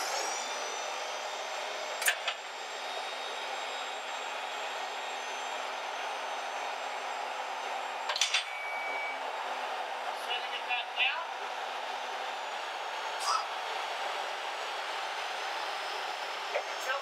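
A Toyota 8FGCU25 propane forklift raises its mast all the way up, giving a steady hydraulic whine and engine hum with a few brief clicks and knocks, while someone talks faintly.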